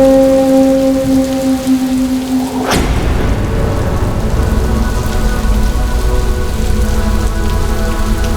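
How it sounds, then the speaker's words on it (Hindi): Steady heavy rain pours loudly and continuously as a sound effect in a Hindi mythological TV serial, following a sudden crash-like burst at the start, with no voices. "वर्षा"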